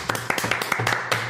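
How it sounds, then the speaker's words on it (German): An audience claps in a quick, fairly close burst of applause for guests at a German football talk event, over a brief stretch with some voice mixed in. "Applaus"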